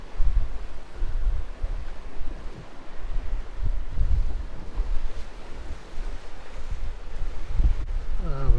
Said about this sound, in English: Now it's blowing 20 knots at the moment.